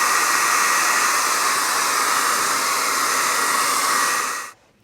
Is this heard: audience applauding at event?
no